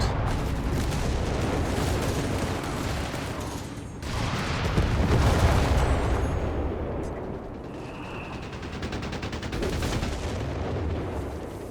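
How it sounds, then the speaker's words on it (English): Naval artillery barrage in Company of Heroes 3, with heavy shells pounding down continuously, rumbling booms layered over constant battlefield clatter and a thinner crackle of small-arms fire, loud throughout. "That naval artillery barrage really hits hard, and there you go."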